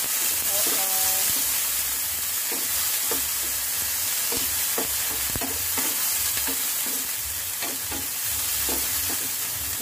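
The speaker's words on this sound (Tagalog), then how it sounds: "mas masarap kasi siya pag medyo ginisa itong gulay na to" Mixed vegetables with garlic sizzle and hiss steadily in a hot pan, with repeated scrapes and clinks of a utensil stirring them close by.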